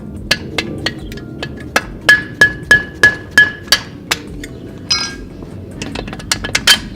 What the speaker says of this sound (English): You can use a screwdriver to pound it through.